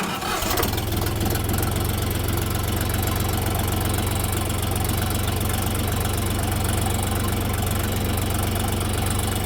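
A small tractor's 1.9-litre 35-horsepower diesel engine turns over and catches, then settles into a loud, steady, knocking idle that continues without pause.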